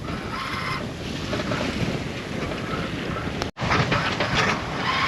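Wind buffets a sailboat at sea in twelve knots of breeze, a continuous broadband rush with water and hull noise underneath, briefly dropping out for an instant before resuming at full strength.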